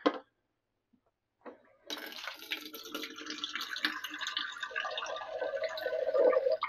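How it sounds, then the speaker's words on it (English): A little water is poured into a coffee pot: a short clunk, then a steady close splashing trickle that builds slightly in pitch as the pot fills, with no talking over it. "I'm going to put a little bit of water in it."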